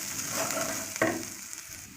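Grated coconut roasting in a pan gives a soft, close sizzle with a quiet scrape of stirring partway through, the whole thing faint and brief.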